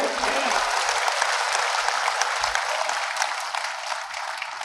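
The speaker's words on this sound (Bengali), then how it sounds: "একটা হাততালি দেন তো জোরে।" An audience at a public gathering applauds loudly, dense sustained clapping with no break from start to finish.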